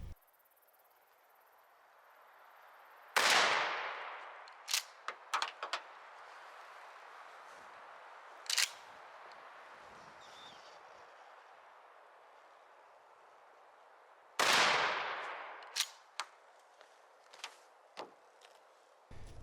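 Two loud Remington 870 20 gauge shotgun blasts with turkey loads fired at targets 27 yards away at an outdoor range, each a sharp crack with a long decaying echo, followed by fainter clicks and clatter of the action.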